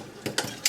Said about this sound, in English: we'll take our 1/8 inch Allen wrench and tighten that bolt down